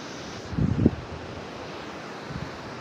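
Wind buffets a microphone on a cold, sunny winter seashore while waves wash in the background, with a brief low gust-like thump near the start and another faint one toward the end.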